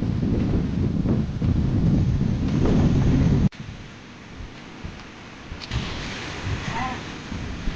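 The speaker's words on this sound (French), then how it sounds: "ça fait du vent." Strong gusting wind buffets the microphone with a loud low roar, dropping abruptly to a calmer rush with faint voices in the background.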